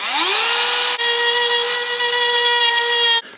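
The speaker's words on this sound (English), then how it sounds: "So let's go get the Dremel and see if we can get these out." A Dremel rotary tool spins up to a high, steady whine while cutting a slot into a screw head in the floor of a 1977 Ford F100; the tone holds loud and close for about three seconds, then stops abruptly.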